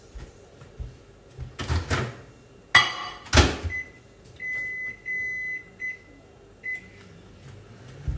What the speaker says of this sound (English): we're just going to chuck it in the microwave for 30 seconds.